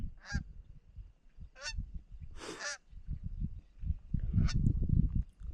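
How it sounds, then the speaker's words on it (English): Geese honk in short, loud calls while coming in to land over a North Dakota field in early goose season, several separate honks over rustling and wind noise. "these geese are trying to land"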